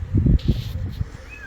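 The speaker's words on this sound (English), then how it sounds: "The blind cats have a cry" A blind cat lets out a few short, low, strained cries in quick succession, close and fairly loud, followed by a thin, faint whine at the end.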